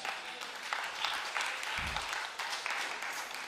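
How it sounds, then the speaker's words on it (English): A women's church service audience gives a round of applause, dense clapping heard close and filling the room for a few seconds, with a brief low thump partway through. "Come on, give yourself a round of applause."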